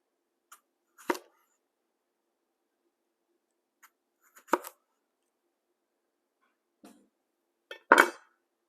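A kitchen knife slices the tip off a large garden cucumber on a cutting board, giving four sparse, crisp chops spread out with quiet gaps between them, the last one the loudest.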